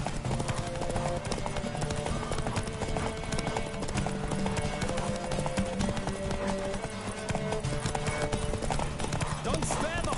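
In The Witcher video game, a horse gallops with steady, rapid hoofbeats under a continuous music score, with a brief whinny. Characters speak over the galloping throughout.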